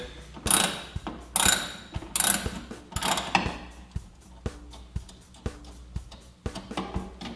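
A ratchet wrench works a stubborn nut on an arcade joystick and control panel for a Gyruss arcade cabinet, giving sharp repeated metallic clicks and ratcheting bursts, close and loud, with no talking.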